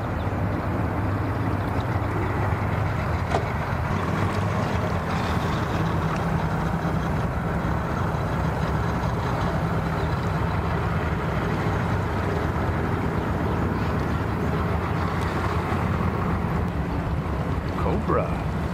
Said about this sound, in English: Hear that motor?